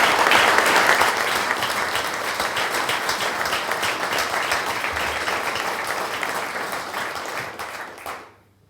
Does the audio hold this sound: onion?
no